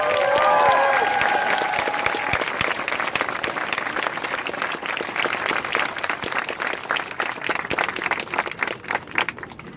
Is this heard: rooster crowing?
no